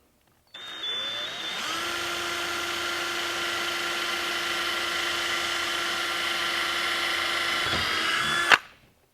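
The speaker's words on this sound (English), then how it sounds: "drill your very first pilot hole" A power drill bores a pilot hole into a kayak hull for mounting an accessory, a loud steady whine running for about eight seconds with the pitch settling after startup, then stopping abruptly.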